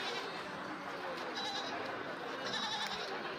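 Goats and bucks at a busy goat market in Kerala, with faint bleats rising out of a dense crowd murmur and distant chatter, all heard from a middle distance.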